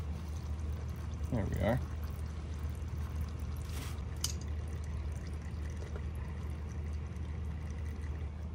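Motor oil, a quart, pours into an Onan MicroLite 2800 generator with a soft steady trickle, and a brief louder gurgle near the start as someone speaks.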